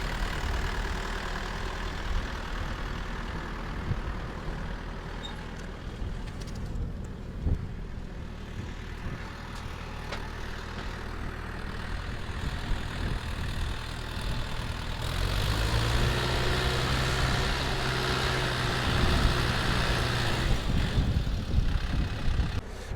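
A tractor engine idles with a low, steady rumble, knocking faintly, then the note rises a little and grows louder in the later part.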